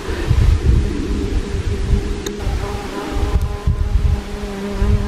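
Bees buzzing around a mountain pass on a hike in Provence among alpine lakes, a steady insect drone with wind rumble underneath, close and continuous throughout.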